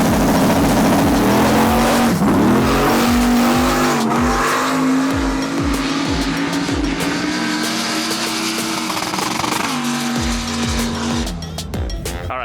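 Drag race car roaring down the strip on a pass, its loud engine note climbing steadily through repeated gear-like surges, close and continuous for the whole stretch with no talk.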